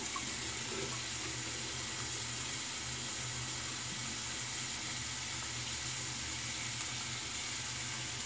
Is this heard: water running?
yes